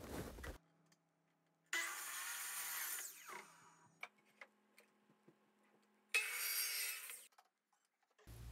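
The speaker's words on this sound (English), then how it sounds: "I cut the board into three sections at 32 inches long. The miter saw works good with this," Miter saw cutting a pine board into sections, two loud sustained whining cuts separated by quieter clicks and knocks of handling wood, with no voices.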